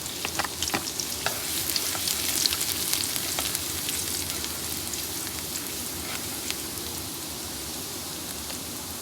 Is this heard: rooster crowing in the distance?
no